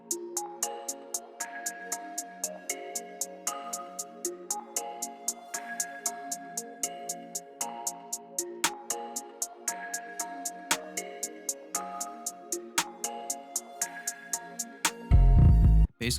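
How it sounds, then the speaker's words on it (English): A trap beat built in FL Studio, with crisp hi-hats ticking in a rapid steady rhythm over repeating melodic notes and a snare, ending in a short heavy 808 roll. "I start by bringing in the hi-hats, then the snare, and then an 808 roll."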